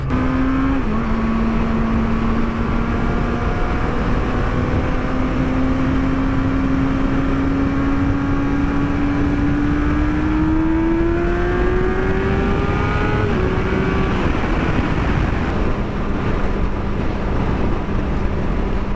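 A Yamaha R6 sport motorcycle engine revs up in first gear toward redline, a steady high-pitched whine climbing in pitch over several seconds, loud and close, then easing back down to a lower drone with no talking.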